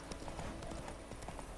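Roach, a horse in The Witcher 3, trotting with a quick, even clip-clop of hooves over faint game ambience.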